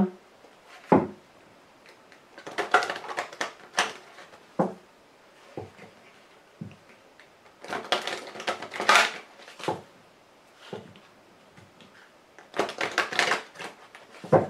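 A Lenormand cartomancy deck is shuffled and cut by hand in short bursts of riffling card flutter separated by quiet gaps, with soft taps and knocks of the cards, close and fairly loud.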